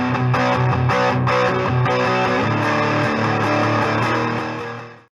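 Distorted electric guitar chords through a tube amp, played loud and gritty, strummed for a few seconds before the sound cuts off.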